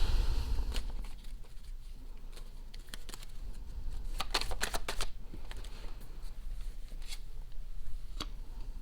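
Tarot cards shuffled by hand: a rapid run of crisp papery riffles and flicks, with a dense burst of snaps in the middle and a few more near the end, close and fairly quiet.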